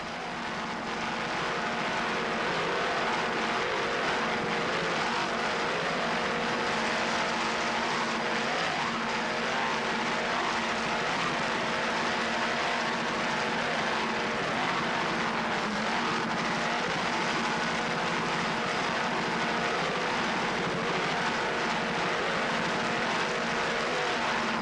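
Offshore racing powerboat engines roar at full throttle during a 1995 world championship race off Key West. The dense, loud drone holds steady throughout, with no voices.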